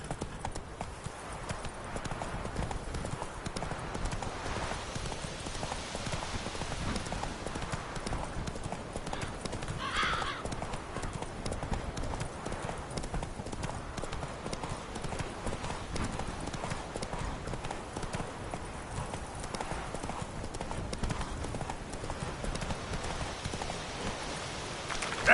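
Horse hooves in Witcher 3: Wild Hunt, a steady rapid clip-clop of galloping at moderate loudness, running evenly throughout with a faint hiss beneath and no distinct speech.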